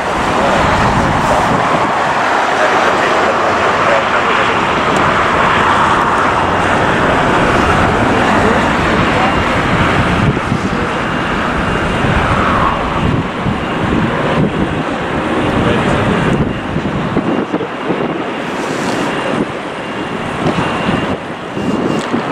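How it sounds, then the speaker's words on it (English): Jet airliner taking off from the north side runway at LAX, a loud sustained roar that swells and slowly fades over about twenty seconds, heard outdoors with wind buffeting the microphone and traffic rumble underneath. "North side takeoff."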